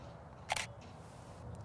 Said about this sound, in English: So I'm going to adjust my shutter, going from 1/100th to about 1/500th of a second.